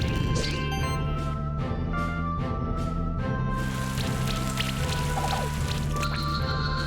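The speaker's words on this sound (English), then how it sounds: "Acid Rain for armor break is pretty good though." Acid Rain attack effect from the video game Monster Sanctuary, a dense patter of splashing droplets and wet impacts over steady game music, loud and continuous with bursts of sparkly chimes.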